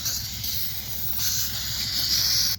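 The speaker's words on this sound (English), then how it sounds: "We got to put the old dust remover on here." Aerosol dust remover sprays in a close, continuous hiss onto an old Dodge truck, one sustained burst lasting a couple of seconds before cutting off abruptly.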